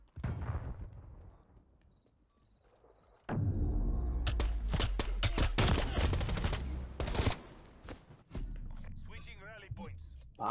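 Bursts of rapid gunfire from a competitive online shooter match, including MP5 submachine gun fire, crackle in dense volleys under the player's talk, with quieter footsteps and movement between bursts.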